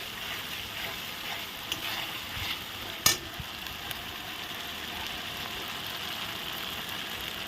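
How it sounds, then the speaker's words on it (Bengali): Rezala masala of ground onion, cashew and sour yogurt paste being stirred in a pan for a katla fish rezala, a soft steady scraping and faint sizzle with one sharp clink of the spoon partway through. "একটু ঘন ঘন নাড়তে হবে ঘন ঘন একটু নেড়ে দিচ্ছি"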